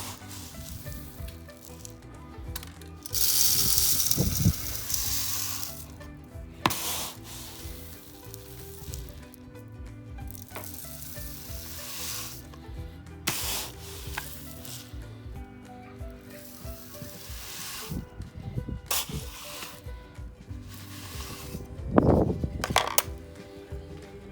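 Bird seed scooped and poured into a bird feeder, gritty rustling and pattering of grains, with louder hissing pours at a few points and quieter scraping between, close and without talk.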